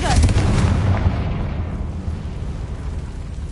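A Confringo spell explosion in a Harry Potter-style video game: a loud, broad boom that hits at once and fades into a long rumbling tail, with a voice heard during the blast.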